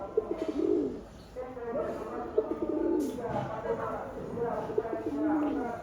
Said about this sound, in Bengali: কবুতর ডাকতেছে, ভরপুর ডাকা ডাকতেছে, দেখেন।